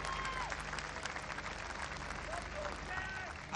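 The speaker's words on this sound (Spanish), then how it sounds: "Un aplauso grande para todos los participantes y para todo el talento chileno." Audience applause at a Chilean huaso festival awards ceremony, steady and fairly faint, with a voice speaking over it and crowd noise underneath.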